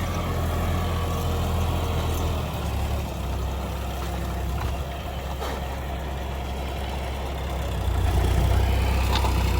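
A John Deere tractor, a 5405 or 5210, runs steadily with an 8-foot rotavator in a dusty field, a low droning engine with a rising surge near the end.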